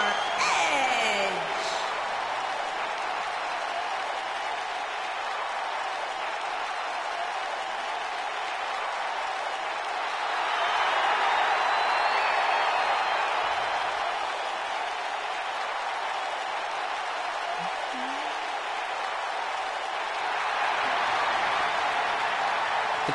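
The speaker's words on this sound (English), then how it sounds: "The crowd absolutely loving that Edge is here in the DWF." Wrestling arena crowd cheering and applauding during a ring entrance, a broad sustained roar with swells of louder clapping and whoops, steady noise filling the space.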